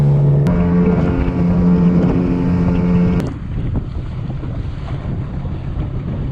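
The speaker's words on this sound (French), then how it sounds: "il y a des belles vagues" Waves washing against a sailing boat at sea between Barbuda and Saint Martin, with loud wind buffeting the microphone: a steady engine drone runs at first, then gives way to rushing water and gusts, with no talk.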